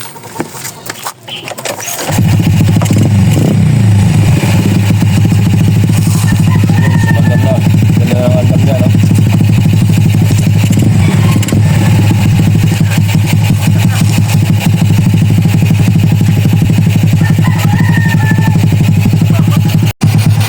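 A scooter-type motorcycle engine, just repaired after troubleshooting of the spark plug and ignition, kicks into life after a few seconds of quieter handling sounds, then idles loudly and steadily close by, with a brief shutoff at the end.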